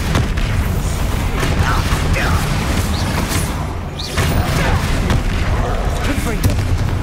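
Bombarda spell blasts boom in Hogwarts Legacy during a duel, heavy low explosions rumbling continuously under dense combat noise and voices.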